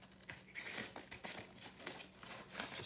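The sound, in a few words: scissors cutting through old book end papers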